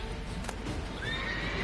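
A horse in The Witcher 3: Wild Hunt lets out a single short whinny, close and fairly loud over a steady background of game ambience.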